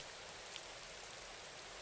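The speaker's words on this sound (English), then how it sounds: "And the rain's going to really start to build up now." Steady rainfall in the video game Rising World, a dense, even hiss of drops pattering on the ground throughout, with a few slightly sharper drop sounds and no voices.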